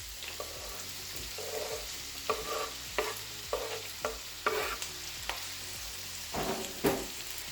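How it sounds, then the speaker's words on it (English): Food sizzles in a hot pan while a utensil scrapes and stirs in repeated strokes, close and steady, as ingredients fry for a Nigerian egg stew. "Just fry it for a bit."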